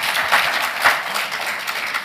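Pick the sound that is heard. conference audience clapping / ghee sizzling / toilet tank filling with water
conference audience clapping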